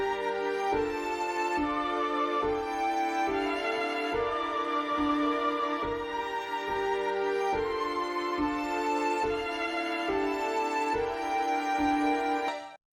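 Drill beat melody built in FL Studio, ambient piano chords and violin with a halftime effect, a dense sustained melodic wash over a regular low pulse, steady level without talk.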